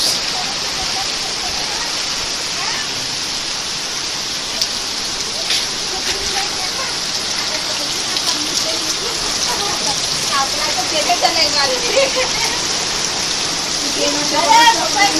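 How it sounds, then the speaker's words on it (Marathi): Heavy torrential monsoon rain falling on farmland in Konkan, a dense steady hiss of rain drumming on surfaces throughout, with voices talking over it toward the end. "आता जाम जोराचा पाऊस आला मुसलधार पाऊस आला मुसलधार पाऊस"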